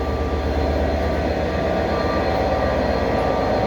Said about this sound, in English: we have the Class 67 locomotive at the front of the train